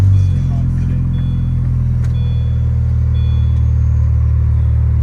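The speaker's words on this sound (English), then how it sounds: "cold start the next morning. Let's see how she does." A Mini Cooper engine idles steadily right after a cold start, a loud, close, even low rumble that holds without revving.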